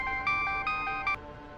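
A phone rings in short electronic bursts, three quick trills close by, then stops, leaving quiet room noise.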